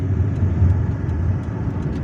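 A car driving through the streets of Algiers toward Mohammed V Boulevard, its engine and road noise a steady, fairly loud low rumble heard from inside the vehicle.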